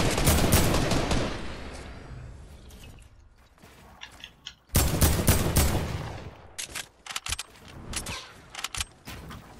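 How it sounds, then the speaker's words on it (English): Enemy gunfire in a shooter video game comes as loud, rapid bursts and fusillades of shots, with sharp mechanical clicks between volleys and quieter gaps before renewed firing. "He's trying to shoot at me."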